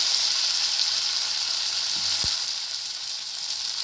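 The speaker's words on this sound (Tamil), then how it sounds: "இப்போ தக்காளி நல்லா வதங்கிடுச்சு ஃப்ரெண்ட்ஸ்." Tomatoes sautéing in a pan for an Andhra-style tomato and coriander chutney, a steady close sizzle with a single faint knock partway through.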